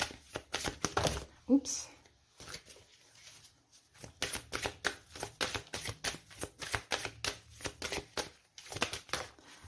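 Tarot cards are shuffled in quick rhythmic bursts of riffling and slapping, close and crisp, with a short pause and a brief spoken word between runs.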